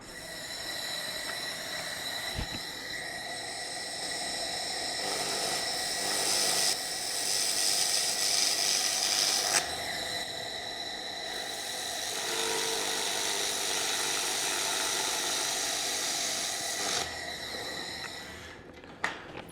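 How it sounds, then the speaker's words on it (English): A laser welding machine running a fillet weld on a metal weldment, a sustained close hiss and hum with tonal whine that holds for long stretches, with brief pauses and a sharp click near the start. "We're gonna put a nice fillet weld right here."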